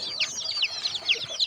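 Baby chicks kept in a cardboard carton on a cold evening peep constantly, a close, dense chorus of high, quick chirps with no pauses.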